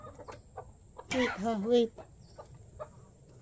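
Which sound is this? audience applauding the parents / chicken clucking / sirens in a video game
chicken clucking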